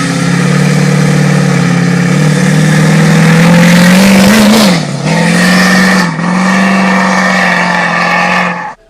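A Duramax diesel 4x4 truck's engine revs loud and close, building turbo boost before a launch, its droning pitch rising steadily and then dipping briefly twice before cutting off.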